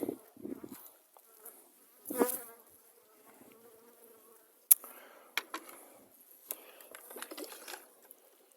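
Bees in a hive during winter treatment with Bipin, buzzing faintly and intermittently at close range alongside handling noises and a few sharp knocks, with brief louder bursts.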